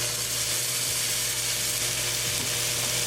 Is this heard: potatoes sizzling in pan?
yes